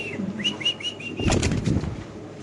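A pair of Spanish pigeons at a bird market, with faint repeated calls early on and then a short burst of wing flapping close by, heard alone without talk.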